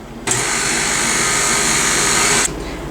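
A KitchenAid stand mixer whipping icing for a tres leches cake switches on abruptly and runs at a steady, loud, high-pitched whir for about two seconds, then cuts off, with no voices.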